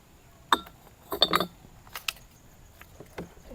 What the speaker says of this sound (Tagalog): mga basag na bote ng gin